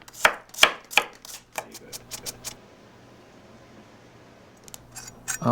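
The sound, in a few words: mincing raw garlic cloves with a knife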